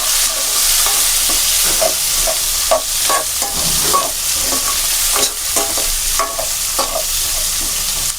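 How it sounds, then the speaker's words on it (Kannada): Chopped onions with bay leaf fry in a pan for a restaurant-style palak paneer gravy, a constant close sizzle broken by repeated scraping stirs of a spoon, with no talking. "ಸ್ವಲ್ಪ ಕೆಂಪಾದ್ಮೇಲೆ ನಾವು ಕಟ್ ಮಾಡಿ ಇಟ್ಕೊಂಡ್ರಂಥ ಈರುಳ್ಳಿ ಹಾಕೋತಾ ಇದ್ದೀನಿ."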